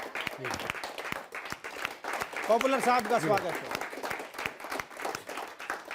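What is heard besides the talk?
audience applause welcoming poet Popular Meeruthi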